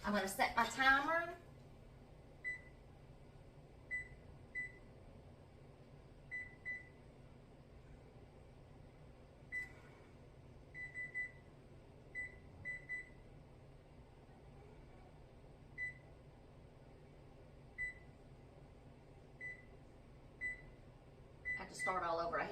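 Short electronic beeps from kitchen oven timer buttons being pressed, scattered singly and in quick pairs over a quiet room, with a person speaking at the start and end.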